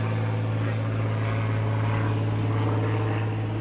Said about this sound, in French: Il y a un avion qui passe au-dessus, désolé pour le bruit